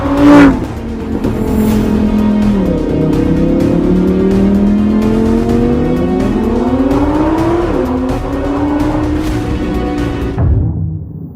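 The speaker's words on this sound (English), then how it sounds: "And this is the Lamborghini Huracan Evo Spider." A Lamborghini Huracan Evo Spider sports car roars loudly and continuously, its engine pitch climbing and dropping through repeated revs and gear changes, with tyre squeal mixed in, before cutting off abruptly at the end.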